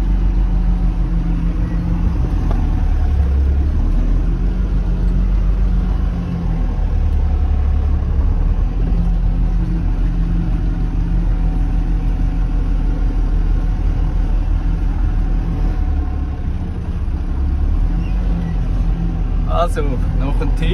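A 4x4 motorhome crossing 2.5-metre Sahara dunes in Tunisia: a loud, steady low engine rumble drones on without a break, deep and continuous from close by.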